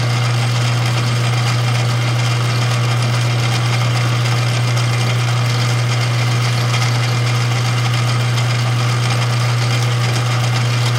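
A metal lathe turns a part for a rebuild of a 1928 Briggs Model FH engine, producing a loud, steady mechanical drone with a strong low hum that runs unbroken throughout.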